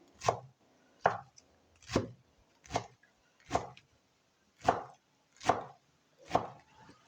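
Knife chopping kangkung (water spinach) into small pieces on a board, eight evenly spaced crisp chops about a second apart, fairly quiet and close, with no talk.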